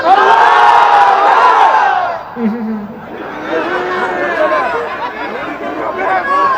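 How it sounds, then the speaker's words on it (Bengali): Married men in a crowd at a religious gathering (mahfil) shout takbir together in a loud, swelling unison roar, which dips briefly before a second, slightly softer wave of voices. "বিবাহিত ভাইরা আমার সঙ্গে তাকবীর দেন, নারে তাকবীর"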